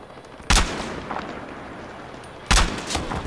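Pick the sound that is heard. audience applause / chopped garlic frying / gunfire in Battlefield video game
gunfire in Battlefield video game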